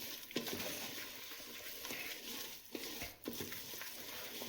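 Masala being stirred with oil in a pan, giving soft scraping and sizzling with irregular strokes of a spoon against the metal, close and steady with brief pauses.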